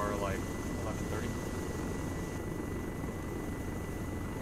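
A helicopter in the military video game Arma 3: a continuous, fairly loud rotor and engine drone that holds steady throughout, with a short rising chirp near the start.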